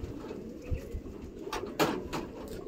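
Adult pigeons coo softly at a pigeon shelter during morning feeding, with low, throaty coos repeating under a faint background rustle and a few light taps.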